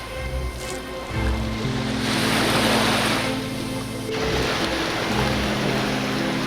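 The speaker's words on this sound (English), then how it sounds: "Sand, sea and boats." Waves wash and break along a beach on Bequia in the Grenadines with a loud, steady surge, wind buffeting the microphone and a low boat engine hum beneath.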